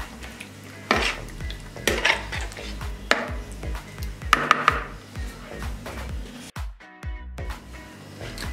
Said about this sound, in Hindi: बटर मिल्क ले लिया हमने हाफ कप, ये ऐड करेंगे। अब इसको अच्छे से मिक्स कर लेंगे